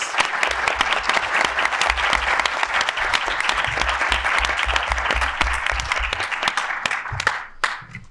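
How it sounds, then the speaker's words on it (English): An audience applauds panel speakers at the end of a discussion on the global order, a dense, sustained round of clapping from a sizeable crowd that tapers off near the end. "a round of applause for our speakers"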